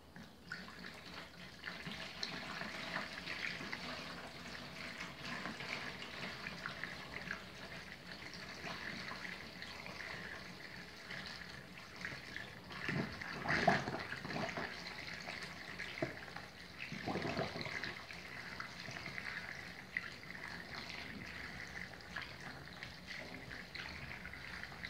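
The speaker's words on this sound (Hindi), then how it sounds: "इसके अंदर पानी डालेंगे और पाइप के जरिए इसके अंदर आ जाएगा।" Water runs steadily into a homemade cooler built for about 500 rupees, a continuous splashing flow like a tap filling a container, holding at moderate loudness throughout with a brief louder splash near the middle and no talking.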